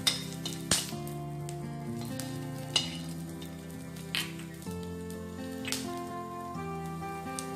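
Food lightly roasting in a pan while making wheat flour laddus: a steady close sizzle with a few sharp pops and clinks mixed in.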